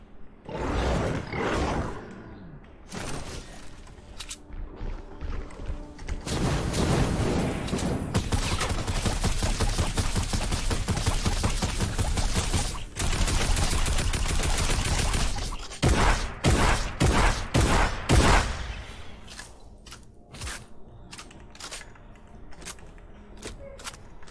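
Fortnite gunfire at spawned monsters: long bursts of rapid shooting mixed with roaring creature sounds, loud and dense, then separate single shots toward the end before it fades quieter.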